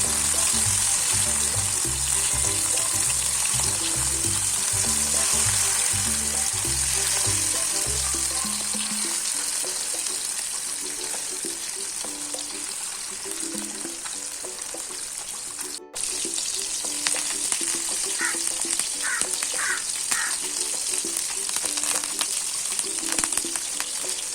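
Sardines sizzle steadily on an oiled stone griddle, a loud, continuous frying hiss running throughout with occasional small pops and a brief dropout near the middle; no one speaks.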